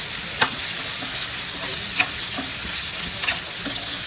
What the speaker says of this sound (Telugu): సో ఇట్లా మంచిగా వేయించుకోవాలన్నమాట చూస్తున్నారు కదా ఎంత బాగా వేగుతున్నాయో అది